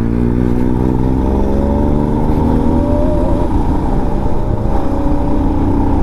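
A Bajaj Pulsar 200 BS6 motorcycle engine runs with its exhaust removed, giving a loud, raw, close-up drone that holds steady with a brief rise in pitch midway, and no voices.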